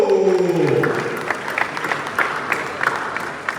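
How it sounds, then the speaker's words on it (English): An audience at a Ghanaian school launch event breaks into applause, steady massed clapping that carries on after a voice trails off at the start. "Ladies and gentlemen, a round of applause for Wale"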